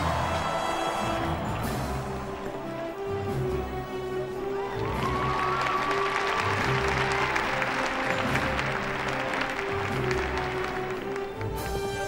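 An arena crowd at a bullfight in Provence breaks into sustained applause and cheering. The clapping stays dense and continuous at moderate loudness from start to finish.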